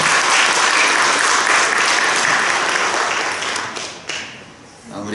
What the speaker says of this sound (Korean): 아드님에게 박수 한번 다시 한번 드리도록 하겠습니다